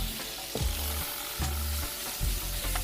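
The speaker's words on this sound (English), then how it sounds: "Use a quick saute, a quick stir." Salmon and shrimp are stirred in a hot pan during a quick sauté, giving a bright steady sizzle broken by several scraping stirring strokes, close and without speech.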